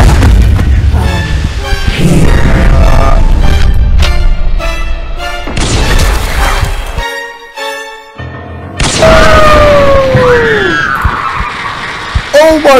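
Loud booming gunfire and impacts from the Crimson Snow video game burst out in heavy, chaotic blasts, with excited voices shouting over the action and a brief lull before the noise surges again.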